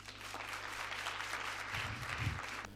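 An audience at a student gathering in Dar es Salaam applauds faintly and steadily, as if from a distance, with a few low thumps toward the end.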